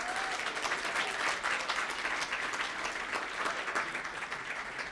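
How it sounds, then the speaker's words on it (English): An audience claps for Kate at a business plan pitch competition award, a full, even round of applause from many hands that tapers slightly toward the end. "a big round of applause for Kate"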